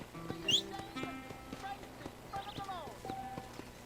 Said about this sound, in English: Ah, here's the horse.